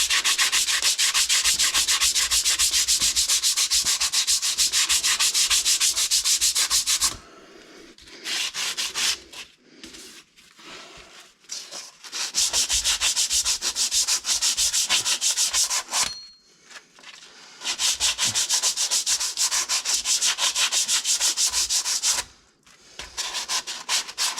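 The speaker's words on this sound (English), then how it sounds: "Just get a bit of emery cloth here, a bit of 40 grit, just sort of make it a bit longer than your shoes. Just give it a bit of a scuff." Drum brake shoes from a Dodge Aspen are scuffed with 40-grit emery cloth in long runs of rapid, close, harsh rubbing strokes, broken by brief pauses and quieter handling between passes.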